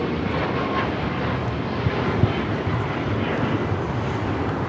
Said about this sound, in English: 1635 taking off to Washington Dulles on the MAX 9.